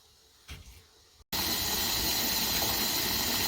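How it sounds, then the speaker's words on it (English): Steam rushes from the vent of a T-Fal pressure canner loaded with jars of pinto beans, starting abruptly after a quiet moment and then holding as a loud, continuous, steady hiss. "I've got a steady flow of steam"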